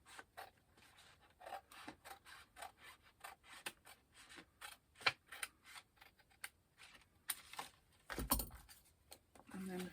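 Small snips and papery rustles come as a tiny piece is cut off while making a mermaid fairy journal. The cuts and handling noises are quiet, close and irregular, ending in a louder scrape.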